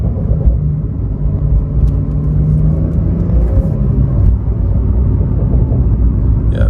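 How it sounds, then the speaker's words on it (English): Base-model Porsche 911 with turbocharged engine heard from inside while driving: a steady, loud low-frequency rumble and whir under road noise, with faint turbo whistle and no talking. "And for a base model, you can definitely hear the turbos."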